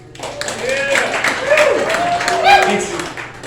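A comedy club audience responds with whoops, shouting and scattered clapping, a short swell of crowd noise that rises and fades.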